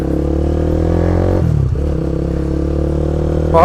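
A Bajaj Pulsar 200NS motorcycle engine runs steadily at a loud, close idle-to-low rev, its tone dropping briefly midway before settling, with a faint rising whine near the end and no talking.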